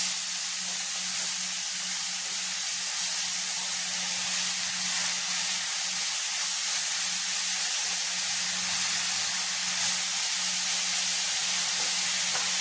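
Steady, even sizzle and hiss of a spinach and chicken stir-fry cooking in a pan over low heat, continuous and close throughout with no talking.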